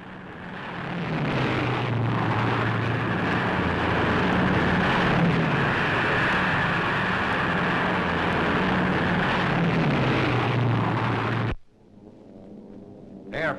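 Military transport plane in flight in 1944, carrying paratroopers toward a jump: a steady, loud engine drone fills the cabin for most of the stretch, then cuts off abruptly near the end.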